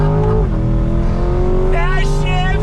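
A 2020 C8 Corvette with an 8-speed dual-clutch gearbox accelerates hard on throttle, its loud engine drone climbing in pitch, dipping briefly at a quick upshift and then rising again, heard from inside the car.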